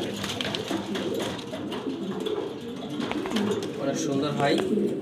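Low, throaty cooing from a black female Maltese pigeon, a steady run of murmured coos close by, with human talk layered over the bird.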